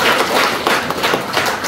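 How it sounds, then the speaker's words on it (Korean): Audience applause greets a pastor at a prayer gathering at the Goseong Unification Observatory, a dense, steady wash of clapping from a nearby crowd throughout. "박수로 맞이해주겠습니다."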